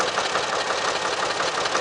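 A tractor engine runs steadily in a field, a continuous mechanical rumble with a rough, even texture and no talk.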